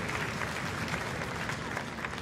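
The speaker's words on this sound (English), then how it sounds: "about a nice round of applause for our Triam Executive Board members?" Audience applause fills a high school auditorium at the Farmingdale High School 2023 All-District Orchestra Concert: steady, dense clapping from a large crowd, sustained and fairly loud throughout.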